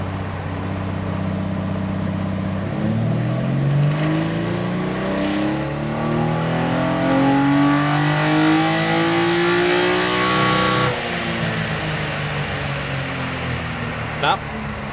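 A naturally aspirated Toyota 2JZ engine in a GX81 runs on a dyno with two degrees of extra ignition timing, sweeping up in a loud, steady rising rev, then dropping sharply off throttle near the end.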